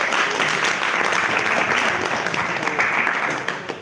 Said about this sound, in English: You can clap for yourself and others also.